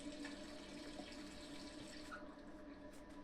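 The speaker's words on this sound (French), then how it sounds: "On ferme le robinet." Steady water streaming from a tap into a sink in the video game Resident Evil 3, constant and close, with a faint electronic background hum.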